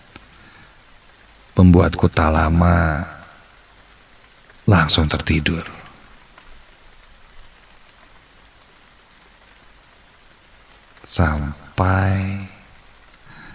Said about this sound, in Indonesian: Suasana yang dingin, sejuk suara rintik hujan,